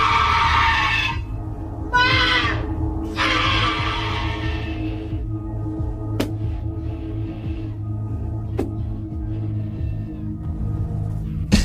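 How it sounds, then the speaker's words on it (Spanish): Piercing high-pitched screams, three bursts close together, recorded covertly inside a sect, then a low hum with a couple of sharp clicks. "Vemos este tipo de gritos."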